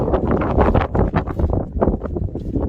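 Strong, gusty wind buffets the microphone at a wild campsite in the Lake District, roaring in uneven bursts with no other sound standing out.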